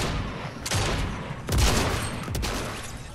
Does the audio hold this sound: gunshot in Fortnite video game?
yes